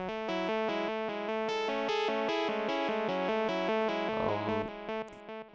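A stock FL Studio synth preset, arpeggiated with LFO modulation and heavy delay, runs as a fast rippling sequence of bright electronic notes, with a swirling effected swell near the end before it fades.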